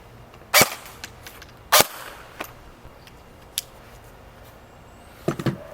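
Barra 400E Gen 2 electric full-auto BB gun firing in a few sharp, separate bursts, the last one a short rapid cluster, with quiet gaps between them and no talk.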